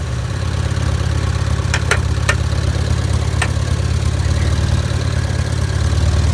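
An engine idles steadily up close, a constant low rumbling drone with a few faint clicks and ticks over it.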